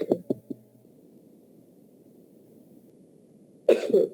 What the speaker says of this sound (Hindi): मेरी खांसी शुरू हो गई है